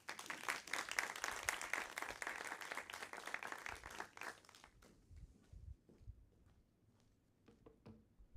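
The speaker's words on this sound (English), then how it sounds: "Another round of applause for Judy Vining, please." An audience at an information panel on parents who host gatherings claps loudly for about five seconds, then the applause thins out to a few scattered claps and quiet room noise.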